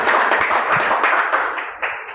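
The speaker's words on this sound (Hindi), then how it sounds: "जोरदार तालियां होनी चाहिए" Loud audience clapping at a gathering, a thick, sustained burst of many hands that holds strong, then thins slightly with a final sharp clap near the end.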